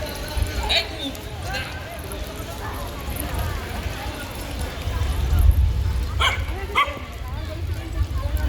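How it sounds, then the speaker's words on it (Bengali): A dog barks a few times in sharp bursts amid people talking nearby at a temple after worship, the barks standing out over the outdoor murmur. "কুকুরটা আমার দিকে এরকম ঘেউ ঘেউ করছে কেন?"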